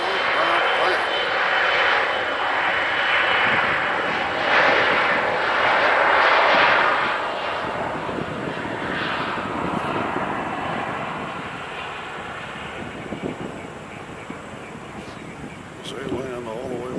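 An airliner inbound from Dulles lands at Nashville International Airport, a broad, loud engine roar that swells and then slowly fades, with people talking over it.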